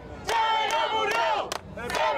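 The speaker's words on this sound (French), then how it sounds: "Chavez n'est pas mort, il se multiplie, crie la foule" A large mourning crowd chants in unison at Hugo Chávez's funeral, loud, rhythmic phrases repeated in surges with brief breaks between them.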